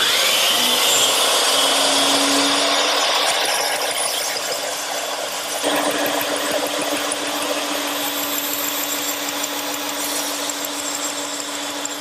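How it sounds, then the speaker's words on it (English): A bandsaw cuts a column profile from wood in a workshop, a steady continuous whine of the blade and motor running throughout, close and fairly loud with no talk. "take that over to my bandsaw and cut it out"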